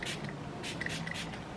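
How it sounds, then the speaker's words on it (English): A hair product is sprayed onto hair in a few short, soft hissing bursts, close and quiet, with no talking. "So I just spray."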